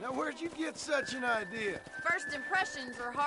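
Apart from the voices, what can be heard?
No everyday noise stands out behind the speech.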